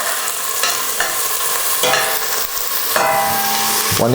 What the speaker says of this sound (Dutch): Terwijl het aan het bakken is, dan zet ik ook knoflook erbij.